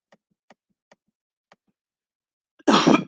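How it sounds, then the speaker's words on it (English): A single short dry cough bursts out loudly near the end, after a few faint soft ticks in an otherwise quiet room. "I know you heard me a little cough."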